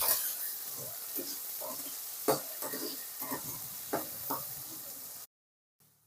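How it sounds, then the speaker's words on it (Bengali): Potato pieces fry in oil with turmeric and salt, a steady close sizzle broken by a few clattering knocks as they are stirred in the pan, ending in a brief silence. "আলুগুলোকে লাল লাল করে ভেজে নেব"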